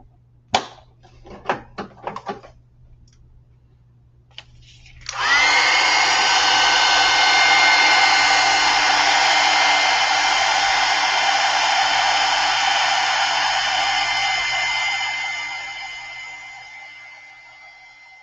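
A hair dryer blasts steadily to dry a salvage-patina craft piece, switching on after a few light clicks and taps, running loud and even for about ten seconds, then fading down.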